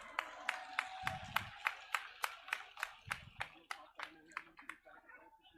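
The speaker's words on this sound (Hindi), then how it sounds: "आप इनका स्वागत जोरदार तालियों से करें।" Audience at a political rally in Udaipurwati clapping to welcome guests, a series of sharp, distinct hand claps in a loose rhythm, fairly sparse and close, with brief voices underneath.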